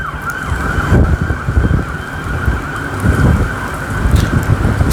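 Sirens sound loud and steady throughout, with a sustained emergency-vehicle tone layered over rough, rain-like noise and low rumbling, and no talking.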